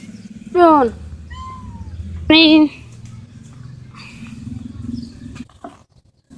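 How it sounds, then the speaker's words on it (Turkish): A cat meows twice, loud and close, in short rising-falling cries, with a voice speaking briefly between them. "Anne kedi."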